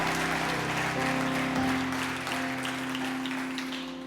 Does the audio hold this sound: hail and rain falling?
no